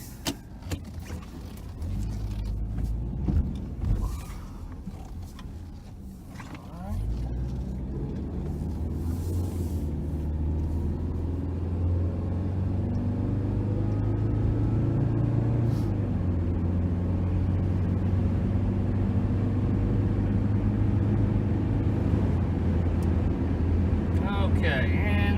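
Blue 1997 Subaru Outback Legacy wagon on a road drive, cabin hum rising steadily as it accelerates to speed, with someone talking over the engine and road noise early on.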